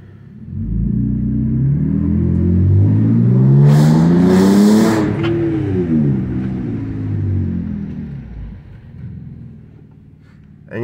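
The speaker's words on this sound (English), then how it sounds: "let's see if you guys can hear it as I drive around," A Dodge Durango SXT fitted with an H-pipe exhaust drives past close by, its deep engine rumble swelling with a rising rev around the middle and then easing back to a steady drone, with no talking.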